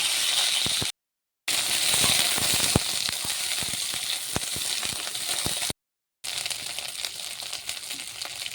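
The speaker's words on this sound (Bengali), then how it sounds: "একই তেলে ফুলকপিটা ভালো করে ভেজে নেব।" Cauliflower florets sizzle in hot oil in a wok, a loud close crackling hiss with scattered pops and scraping knocks, interrupted by two brief silent gaps.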